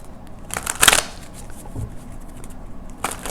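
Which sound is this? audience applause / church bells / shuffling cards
shuffling cards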